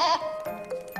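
A cartoon goat gives a single short, wavering bleat, loud and close, as a sound effect with no talking over it.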